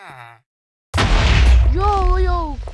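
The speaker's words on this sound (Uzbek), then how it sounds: "Nimaga hamma yoq portlab ketyapti?" A game explosion bursts loudly after a brief silence, a deep rumbling boom that rolls on, with a short synthetic tone before and rising tones after.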